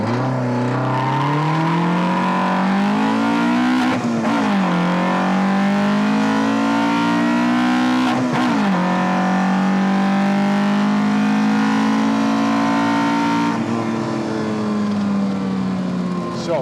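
A loud modified Opel Kadett engine revs up through the gears to about 8,000 rpm, pitch climbing repeatedly then dropping at each shift, close and continuous.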